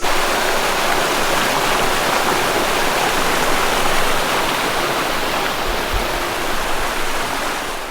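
A mountain stream near Rankoshi, Hokkaido, crossed on a hiking trail, giving a loud, constant close rush of flowing water with no break and no voices.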